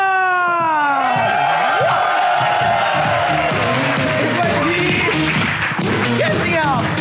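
A studio audience on a SAMAA TV talk show applauds and cheers as a guest walks on, a loud, dense crowd roar that holds steady throughout.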